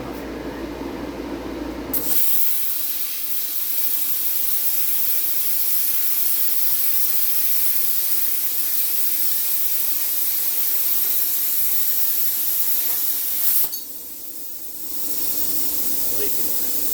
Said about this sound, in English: So let's try the higher air pressure. I don't think the amperage is fine. Slice a corner off here.